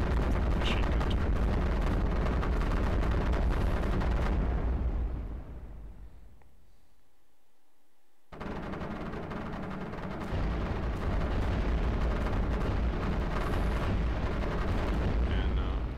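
Rapid machine gun and cannon turret fire with explosions from the iBomber Defense strategy game, a dense, loud barrage that briefly fades to near silence before resuming at full intensity.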